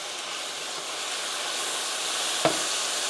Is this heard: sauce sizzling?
yes